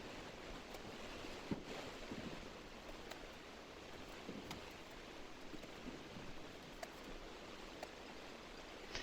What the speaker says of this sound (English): We had a typical Florida afternoon thunderstorm move in.